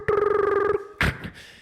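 A human voice imitating a telephone ringing: a warbling electronic-style trill held for most of a second, followed by a short burst of breathy vocal noise.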